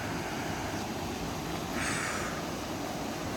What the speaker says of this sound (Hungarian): Ott esik lefele a Mostnica vize.